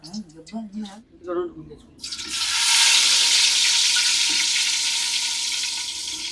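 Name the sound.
frying onions in oil for tuna curry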